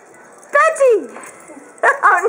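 A small dog barks and lets out high, whimpering yips in short bursts close by, with a person talking excitedly over and between the sounds.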